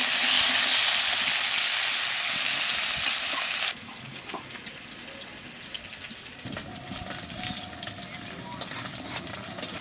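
Potato fries in a pan for a leafy greens dish, a loud steady sizzle that cuts off abruptly, followed by quieter stirring and faint splashes.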